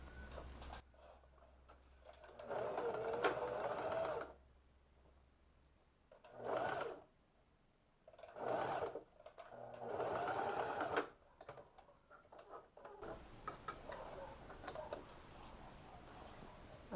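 A sewing machine runs in several bursts, stitching elastic into the middle of a shorts waistband seam, with steady whirring runs separated by pauses and handling noise nearby.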